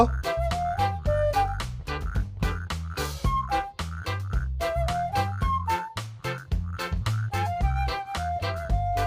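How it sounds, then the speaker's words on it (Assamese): Frogs croaking in a steady, rhythmic series of loud, close calls that repeat throughout, with no talking. "ভেকুলীয়ে যে তুৰতুৰাই"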